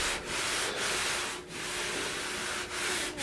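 A hand rubs back and forth over the welded area of a steel car fender, a broad dry swishing in long even strokes with brief pauses between passes, close and steady.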